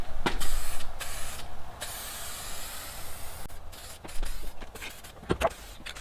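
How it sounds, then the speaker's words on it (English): Several short bursts of spray paint hissing from an aerosol can close by, with brief pauses between them and some handling noise. "I did a test spray."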